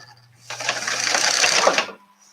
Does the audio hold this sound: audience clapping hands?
no